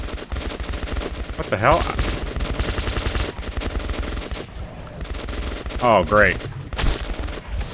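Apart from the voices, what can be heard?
gunfire in Metro video game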